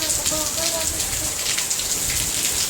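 Heavy rain pours down during a summer storm, a dense and steady roar of water on surfaces that stays loud and close throughout, with no voices.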